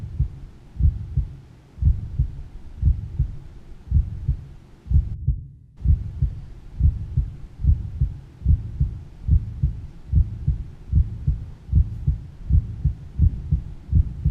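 A steady heartbeat sound effect in a web series pulses throughout, each double thump loud and low, repeating evenly with a brief dropout partway through and no talk.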